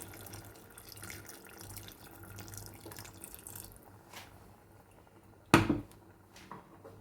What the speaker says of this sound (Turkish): Biraz sıcak su ilave edeceğim.